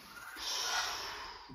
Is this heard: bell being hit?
no